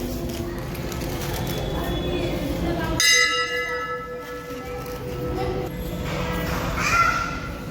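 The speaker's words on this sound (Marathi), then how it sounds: "घंटी" A temple bell at a Mahadev temple in Latur strikes once with a bright ringing tone that slowly fades, over a busy outdoor background with a crow cawing nearby.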